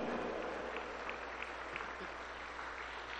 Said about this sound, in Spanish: Aplauso para Cristo.